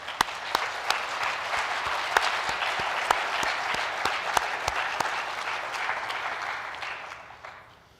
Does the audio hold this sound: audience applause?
yes